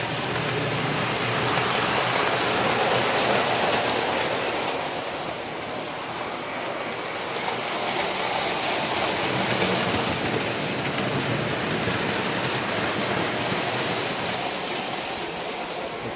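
A Lionel prewar standard gauge 390E model train runs steadily through a plaster tunnel set on the floor, giving a continuous, fairly loud rumbling clatter for the whole stretch with no talk.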